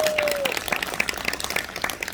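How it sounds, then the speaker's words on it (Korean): Scattered audience clapping at an outdoor rally in Pohang, a steady patter of many hands heard from a moderate distance, with a brief tonal whistle near the start. "박수 한번 쳐도 좋아요"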